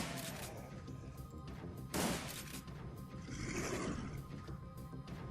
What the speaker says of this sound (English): it's shotgun time.